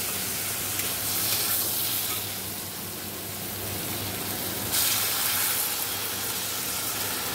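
Water poured into fried spice paste with cumin powder in a pan for a pomfret curry, bringing a loud, steady steamy hiss and sizzle with a sharper surge partway through.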